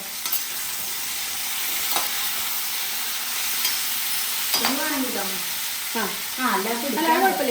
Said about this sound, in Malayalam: കുറച്ചധികം മഞ്ഞൾപ്പൊടി ഇട്ടിട്ട് ഒന്ന് വഴറ്റട്ടെ കേട്ടോ